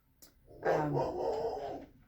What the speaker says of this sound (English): my dogs are barking at something